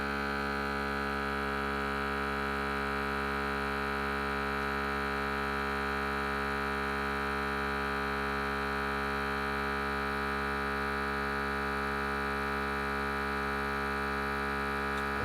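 A vacuum sealer pump runs on an egg-preserving jar, a steady, unbroken electric hum and whine that stays at the same level for about fifteen seconds, close and fairly loud, with no talk.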